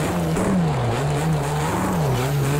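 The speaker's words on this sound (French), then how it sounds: "Abusé, la voiture, elle glisse à mort." A race car engine drones continuously with a wavering pitch as tires squeal and skid in a racing video game played on a sim-racing rig, loud and close, with no talking.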